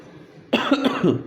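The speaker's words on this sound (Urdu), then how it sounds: "معذرت، یہ میری کھانسی ہے تھوڑی سی" A man coughs a few times in quick succession, sharp and close, after a brief quiet pause.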